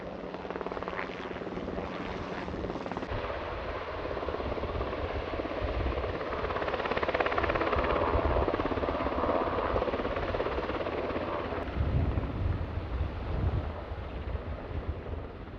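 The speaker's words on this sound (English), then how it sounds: "As we were walking down, we saw the helicopter." A rescue helicopter drones steadily overhead on Snowdon, Wales, for the whole stretch, its broad rumble mixed with gusty wind buffeting the microphone.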